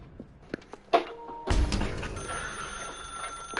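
In the video game The Stanley Parable, a telephone rings with a bright, steady electronic tone that begins after a few soft knocks and clicks and keeps going at a moderate level.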